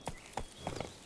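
Roach the horse's hooves clip-clop in The Witcher 3, four soft, unevenly spaced hoofbeats at a walking pace, fairly quiet with no other sounds.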